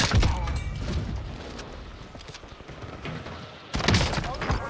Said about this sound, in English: Oh no. I'm taking fire.